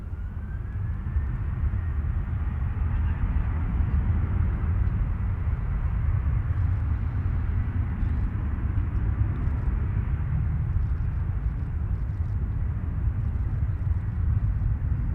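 WestJet airliner taking off from runway 20 center at Nashville International Airport, a loud continuous low jet roar that holds steady throughout, with no speech.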